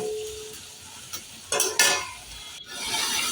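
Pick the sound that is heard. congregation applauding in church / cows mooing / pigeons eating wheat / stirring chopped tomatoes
stirring chopped tomatoes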